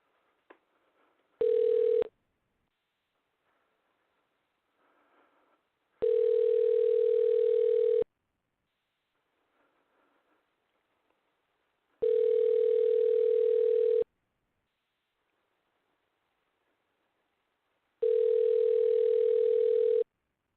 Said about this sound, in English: let's see if we can get Mr. Eric Schmidt on the horn here